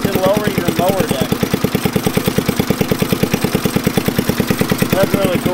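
An old Monarch riding lawn mower engine idles close by with a steady, rapid putt-putt pulse and a low mechanical drone that stays even throughout, while someone talks over it.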